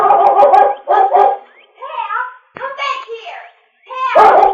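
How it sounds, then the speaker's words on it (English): Barks and yips from a collie in an old radio drama: several close, sharp bursts separated by short pauses, with brief voice-like sounds between them. "As soon as they heard the dog barking, the Lone Ranger and Tonto leaped to their f"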